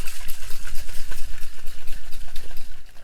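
A metal canister of nitrogen-charged cold brew coffee shaken vigorously by hand, a fast steady rhythm of sloshing, rattling pulses, loud and close, with no voices.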